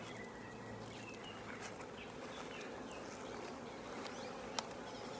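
A dense, steady buzz of many bees swarming close by, continuous throughout with no talking.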